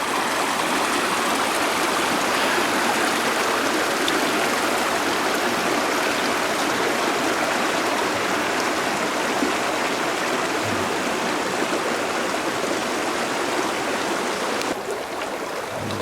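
Spring water rushes and gurgles continuously where it comes up out of the ground, a steady, full flowing sound close by with no pauses.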